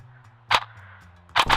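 Airsoft sniper rifle firing at an outdoor airsoft field, a sharp close crack followed a moment later by two quick snapping shots over a low background hum.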